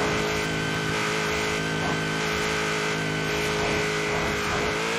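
Sports car engine revving in a street racing game featuring an El Camino, Nissan GT-R, Lamborghini Huracán and Audi R8, a steady droning whine holding at high revs with constant engine harmonics and no talk.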